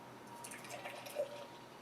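Tree House Futurism imperial honey porter is poured from a can into a glass, a soft, close liquid trickle with faint glugs and drips, quiet and without talking.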